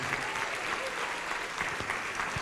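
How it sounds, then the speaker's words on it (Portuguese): Congregation at a church service applauding together, a steady dense wash of clapping filling the whole stretch at moderate loudness with no voices on top. "Vamos aplaudir mais ao nome de Jesus."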